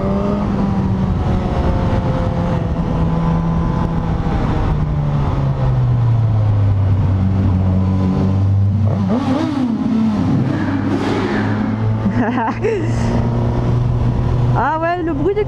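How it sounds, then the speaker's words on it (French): A 2021 Suzuki GSX-S1000 four-cylinder motorcycle engine runs steadily up close while riding, its low hum rising and falling with the throttle, while a person talks intermittently over it. "Ah ouais, le bruit du 4 cylindres, c'est vraiment pas mal."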